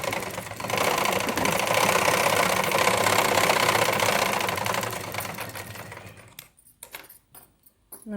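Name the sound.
sewing machine stitching a blouse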